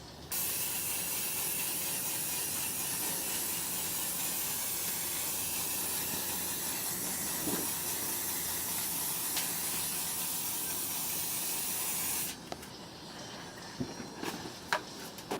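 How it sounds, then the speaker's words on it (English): An aerosol can sprays black paint onto spray-paint artwork in a long, continuous, loud hiss for about twelve seconds. It then cuts off, leaving a few small clicks and taps. "I just sprayed the black"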